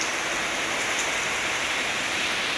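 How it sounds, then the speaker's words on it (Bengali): Steady, dense hiss of light rain falling at midday, a continuous even wash of patter with no breaks and no voices. "বৃষ্টির শব্দ শোনা যাচ্ছে।"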